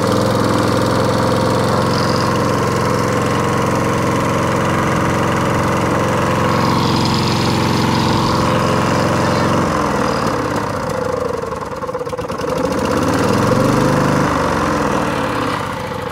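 A used walk-behind lawn mower with a suspected carburetor fault and a fuel and oil leak runs at close range, its small engine chugging loud and steady, the tone shifting partway through as the throttle changes.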